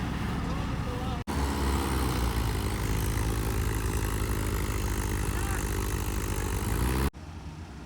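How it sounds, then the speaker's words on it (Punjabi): A 75-horsepower tractor engine runs close by with a loud, steady low rumble and drone, starting abruptly after a brief gap and cutting off sharply just before the end. "ਲਓ ਬਾਈ ਇਹ ਮੈਕਰੋ ਵਾਲੇ ਬਾਈ ਦਾ ਟਰੈਕਟਰ ਆ ਇਹ 75 ਹਾਰਸ ਪਾਵਰ ਆ"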